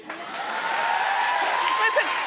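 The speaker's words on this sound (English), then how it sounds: "Keep the claps going." A talk-show studio audience applauds and cheers, a sustained wash of clapping that swells over two seconds with whoops and voices mixed in.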